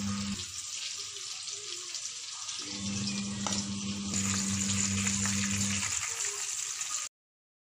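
Chicken kebabs frying in hot oil, a steady bubbling sizzle that swells in the middle, then cuts off abruptly near the end.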